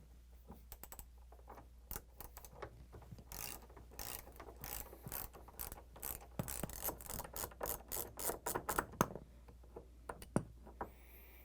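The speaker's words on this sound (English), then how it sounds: "next I'm going to use the socket wrench" A socket wrench ratchets out the lower hinge bolts on an LG/Kenmore refrigerator, with bursts of quick, close clicking that grow denser and louder toward the end, alone with no talk.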